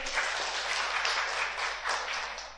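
Steady applause from a modest group, a dense wash of claps that swells slightly in places and holds throughout without talking.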